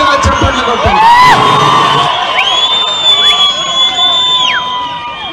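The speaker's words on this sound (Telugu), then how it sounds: "ముందుకు నడిపిస్తున్న మీ నాయకులు బండ్ల కృష్ణమోహన్ రెడ్డి గారికి గట్టిగా చప్పట్లు కొట్టండి." A large crowd at a Telangana political rally for a parliament election cheers, whoops and shouts continuously, loud and close, with shrill rising whistle-like tones cutting through the roar.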